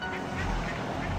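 A brief burst of cartoonish duck quacks from the indie video game Failman, close and clear over a low background, lasting about a second.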